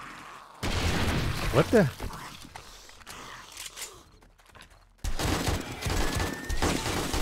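Gunfire in the zombie-survival game 7 Days to Die, Darkness Falls mod, bursts out loud and harsh in two stretches separated by a quieter gap, with a man's startled exclamation over the first burst.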